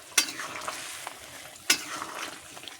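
Fried koi fish being stirred into a simmering cauliflower curry, two sharp spatula scrapes against the pan over a steady bubbling sizzle, close up and without talk.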